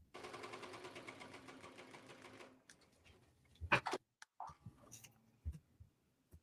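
A Ricoma Marquee 2001 embroidery machine stitching a fanny pack, running in a rapid, even mechanical rattle for about two and a half seconds before stopping, followed by scattered clicks and handling knocks in a quiet room.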